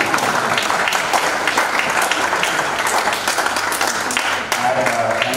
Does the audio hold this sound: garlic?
no